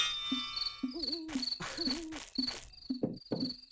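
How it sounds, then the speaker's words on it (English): Loud crickets chirp steadily with high, bright pulses, mixed with quirky warbling game sounds in short bursts and no talk. "I despise how loud the crickets are still"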